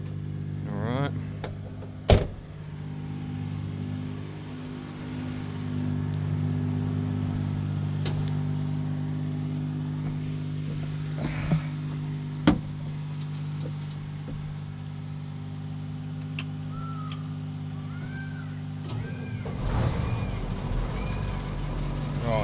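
An old engine, jump-started from a Nissan Patrol, runs with a steady low drone and humming tones, a couple of sharp clunks over it, and people talking nearby.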